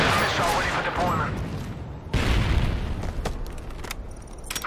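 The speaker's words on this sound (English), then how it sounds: "Friendly Predator missile inbound." A Predator missile strike in Call of Duty MW3 lands as a heavy booming blast, followed by a second explosive impact midway and scattered crackling gunfire, with game voices talking over the noise.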